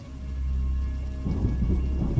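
Heavy rain pours steadily with a deep rumble of thunder building underneath, continuous and fairly close, with no voices present.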